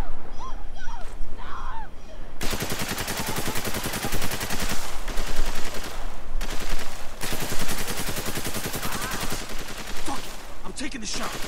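Sustained gunfire in the Spec Ops: The Line video game, a loud rapid burst of automatic shots after a short quiet opening, running through most of the clip with brief pauses and some voices underneath.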